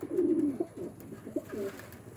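Racing homer pigeons give a few low, soft coos close by, one drawn out and then several shorter ones in quick succession.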